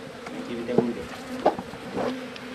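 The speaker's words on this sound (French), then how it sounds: "Ne t'inquiète pas, les abeilles savent faire." Bees buzz loudly and steadily close by, a dense swarming drone with a few louder passes of individual insects, while people speak French in the background.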